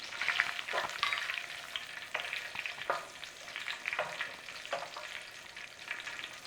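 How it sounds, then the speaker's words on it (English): Cashew nuts and raisins fry and sizzle in a pan for sweet pongal, giving a steady crackle with scraping stirs every second or so, close and alone. "In there, cashew nuts. We're going to give those a little toasting."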